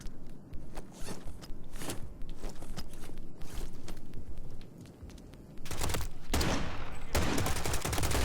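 Rapid pistol shots from an overpowered handgun in the Modern Warfare III campaign, sharp cracks in uneven bursts that give way to a louder sustained burst of firing and noise near the end.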